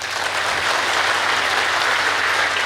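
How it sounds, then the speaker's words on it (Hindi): A crowd at a Brahma Kumaris gathering in Bettiah, Bihar, claps together in a loud, dense, continuous burst that stays even and close for the whole stretch. "बजाओ ताली।"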